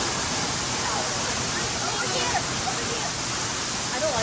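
A bridal-veil-style waterfall pours with a steady, full broadband rush of falling water, close and continuous, while people talk over it.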